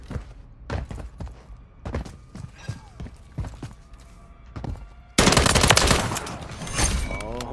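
Rapid video game gunfire in a free-for-all match on Scrap Yard and Skidrow: sparse sharp shots at first, then a dense, loud continuous burst of automatic fire in the last seconds, close and prominent.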